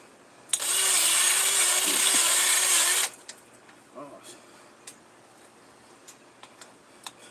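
A 20-volt cordless drill turning a bulb auger into soil whirs loudly for a few seconds, its motor pitch dipping under load, then stops, leaving scattered clicks and light scraping.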